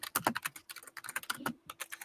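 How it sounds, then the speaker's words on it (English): Rapid, close typing on a computer keyboard, with dense bursts of crisp keystrokes and brief pauses, heard on its own without speech. "You probably hear me typing now. It's like my ASMR typing."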